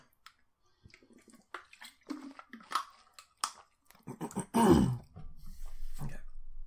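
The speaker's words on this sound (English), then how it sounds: "Sorry for clearing my throat a bunch." Throat clearing from a man recording in the morning after breakfast, heard as a cluster of short, rough, close-up rasps building to a stronger harsh clear, then trailing into low noise.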